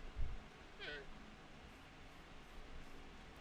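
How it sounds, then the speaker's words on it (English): A gray cat in Minecraft gives a single short, faint meow, followed by quiet low background noise. "Hello, little gray cat."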